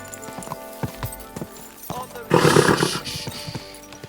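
Horse hooves clip-clopping in Kingdom Come: Deliverance II, a steady run of close, sharp thuds with a louder burst of snorting or rumbling midway, plus speech in the scene.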